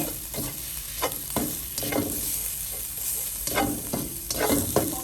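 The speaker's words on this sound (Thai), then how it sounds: "ต้องผัดน้ำพริกแกงให้หอม ไฟปานแกงอย่าแรงนะคะ" Thai curry paste stir-fried in a pan over moderate heat for a pork-bone curry with phak hueat, with a steady sizzle and repeated scraping strokes of the spatula, no talk.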